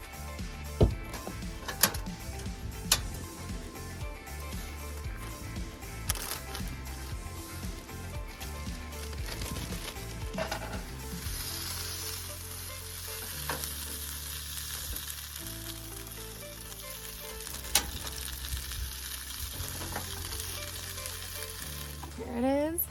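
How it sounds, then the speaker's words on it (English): Food sizzles steadily in a frying pan, a continuous crackling hiss with occasional sharp clicks and scraping taps near the start. "I'll eat it right out of the pan and still sizzling."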